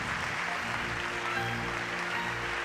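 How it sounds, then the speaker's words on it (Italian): A theatre audience at the presentation of the film L'ultimo Gattopardo gives a short, steady round of applause for director Giuseppe Tornatore, heard as an even wash of clapping at moderate distance. "questo applauso adesso lo rifarete per Giuseppe Tornatore."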